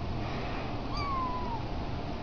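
A single kitten meow, a rising-then-falling tonal cry about a second into the clip, stands out over a steady background rumble, with no talking.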